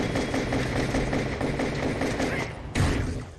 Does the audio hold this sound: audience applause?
no